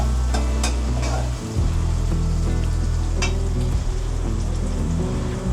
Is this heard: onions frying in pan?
yes